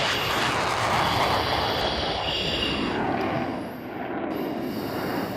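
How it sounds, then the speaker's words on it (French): A two-seat Rafale fighter jet of the French strategic air forces takes off with afterburner engaged, heard as a loud, continuous roaring engine rush throughout, with a slight dip toward the end. "stop lâcher les freins, post-combustion enclenchée"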